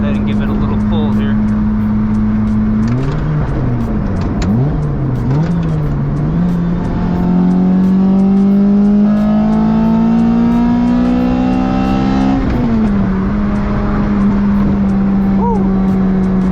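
Lotus Elise 111R engine with strong induction noise, revving up through a pull as the pitch climbs steadily, drops at a shift, then climbs again, loud and close from inside the car.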